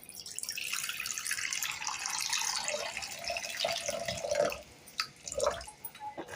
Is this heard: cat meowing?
no